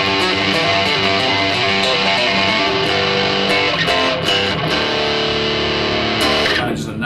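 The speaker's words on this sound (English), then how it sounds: "we'll start with the first one here, which is a crunch fuzz" Thick, heavily distorted bass guitar through a crunch fuzz effect on a Zoom B3 bass effects pedal plays sustained, buzzing fuzz tones, loud and continuous, with a few sharp attacks near the end.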